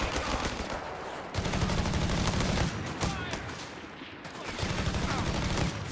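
In Company of Heroes 3, sustained machine gun bursts crackle in dense, rapid volleys from a battle scene, loud and continuous, with a couple of brief lulls between long bursts.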